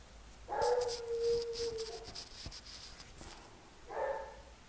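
Dogs bark on a street, with a drawn-out whining howl followed by a couple of sharp barks and a further bark burst a few seconds later, moderately near.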